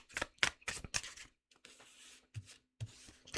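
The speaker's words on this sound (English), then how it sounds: "Sorry, I need to keep shuffling." A deck of tarot cards being shuffled by hand in a card reading, with quick papery riffles and rubbing strokes followed by a few softer slides, close and fairly quiet.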